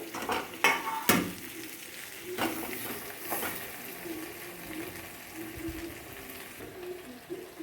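Stuffed okra cooking in a pan on the stove with a lid set over it, giving a steady soft sizzle broken by a few sharp clatters of utensils and pan near the start.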